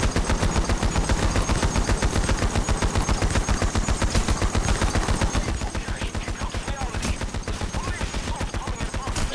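Rapid sustained automatic gunfire in a modern battle fortress video game, loud and continuous bursts of close shots filling the whole stretch without pause.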